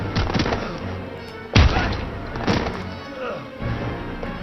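Gunshots in the video game Heavy Rain: two heavy, booming shots about a second apart that rise over a steady bed of game sound and voice.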